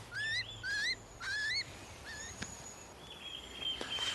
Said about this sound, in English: I can hear the chicks in the nest inside.